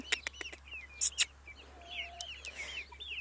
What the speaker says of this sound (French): j'ai une poule, donc ça c'est une poule, un coq, une poule, un coq